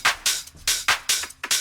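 A speed garage drum loop from a sample pack, with punchy, crisp hits repeating in a quick, steady groove, loud and on its own.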